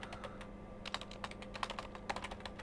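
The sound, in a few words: typing a post on a computer keyboard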